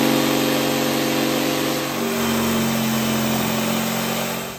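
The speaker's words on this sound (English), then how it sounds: "just getting the saw blade in there" A power saw cutting out a part for a DIY solar generator's 12V power module, giving a loud, continuous motor whine whose pitch sags midway as the blade loads up, then holds until it stops.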